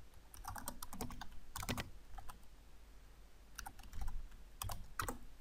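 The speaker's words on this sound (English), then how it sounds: "Oops, would help if we could type correctly." Quiet typing on a computer keyboard comes in short bursts of rapid key clicks separated by pauses, close and soft.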